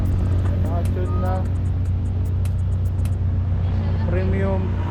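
A tuned Mitsubishi Lancer GSR hums along a road at night with traffic noise around it, while people talk over the engine.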